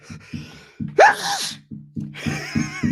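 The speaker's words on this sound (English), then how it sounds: "That was a weird sneeze, man." A single loud, high-pitched sneeze bursts out abruptly, set against a rhythmic low pulsing background.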